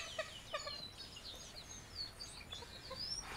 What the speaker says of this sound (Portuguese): E a galinha d'água vem aqui do nosso lado